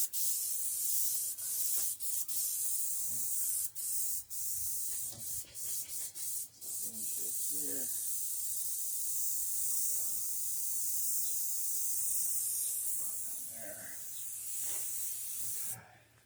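An airbrush sprays oil paint in a steady close hiss, broken by short pauses and bursts as the trigger is worked, with faint speech underneath.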